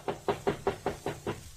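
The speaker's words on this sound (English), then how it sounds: "A knock on the door produced results." Seven even knocks on a hotel room door come at a steady rhythm, crisp and close, with a quiet room behind them in a radio detective drama.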